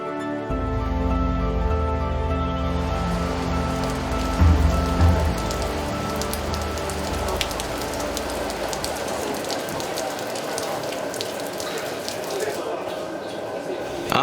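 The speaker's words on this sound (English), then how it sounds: "After a night of heavy rain" Heavy rain falls steadily, a dense, continuous patter and hiss on surfaces, with soft music in the background over the first half.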